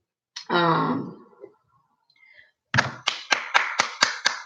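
A run of about seven hard, sharp hand claps lands in quick, steady succession, close and loud, following a brief voiced sound and a pause.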